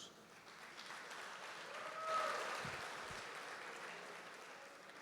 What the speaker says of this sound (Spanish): un aplauso para los que controlan la luz